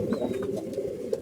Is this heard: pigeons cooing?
yes